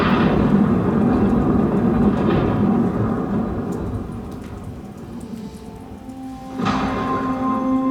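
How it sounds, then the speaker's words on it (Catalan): Steady rain hisses throughout a passing thunderstorm, with low rumbles underneath and a sharper thunder crack near the end, loud and close. "Arriba una tronada."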